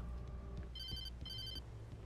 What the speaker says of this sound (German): Telefon, geh ran.